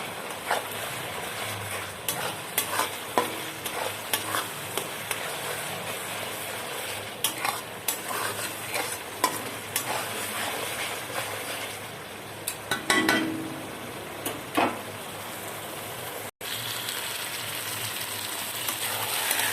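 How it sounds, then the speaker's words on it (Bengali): Chicken pieces fry and are stirred with spices in a pan, giving a steady close sizzle with frequent scraping and clinking of a spoon against the pan, no talking. "এবার মাংসের পিস দিয়ে দিলাম দিয়ে এবার ভালো করে মশলা দিয়ে আমি কষে দিচ্ছি"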